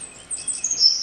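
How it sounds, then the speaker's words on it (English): A savanna sparrow gives a thin, high, buzzy call in a few short rising notes over a quiet background. "field birds of the fields and savannas and stuff like this savanna sparrow"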